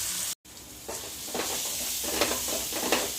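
An onion mixture fries in a pan with a steady, close sizzle and hiss, broken by a brief gap and soft stirring scrapes that repeat every half second or so.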